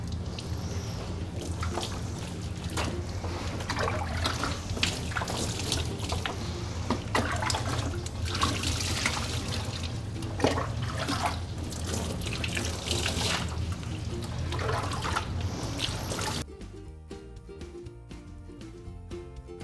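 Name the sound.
water rinsing shampoo out of a dog's coat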